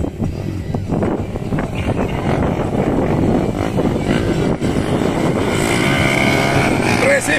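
Motorcycle engines racing at a mototaxi cross event on a dirt circuit, loud continuous buzzing and revving that builds over several seconds, with a commentator's voice running over the engines.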